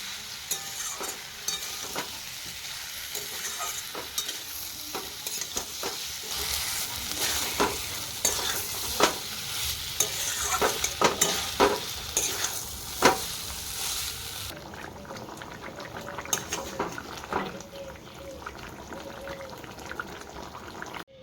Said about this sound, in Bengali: আলুগুলো লাল লাল করে আমি ভেজে নেব।